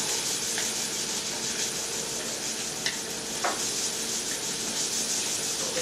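Onions and garlic cooking in a pot for arroz con gandules, sizzling steadily as they are stirred, with a constant close hiss and a few faint scraping clicks from the spoon.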